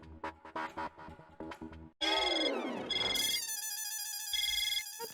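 A melodic ringtone chimes from a phone, first a short busy tune, then a sustained bright ringing pattern that repeats steadily with no voices.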